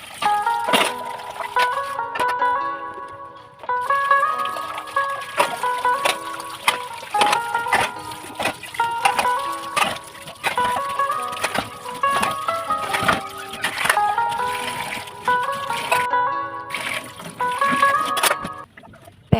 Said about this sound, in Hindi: पहले सारे बर्तनों को बगैर डिश वॉश लगाए सिंपल पानी से धो लेती हूँ